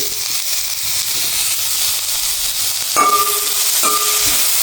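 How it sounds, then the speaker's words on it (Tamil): Cumin seeds and fenugreek sauté in hot oil with a steady, close sizzling hiss. Two sharp metallic clinks from a utensil near the end cut through the frying. "இப்போ சீரகம் வெந்தயம் எல்லாம் போட்டு பாருங்க வதங்கி கொண்டு இருக்குது பாருங்க"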